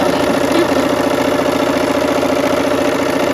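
A sewing machine runs continuously at an even pace, giving a close, loud, fast-stitching hum and buzz with no break and no voices.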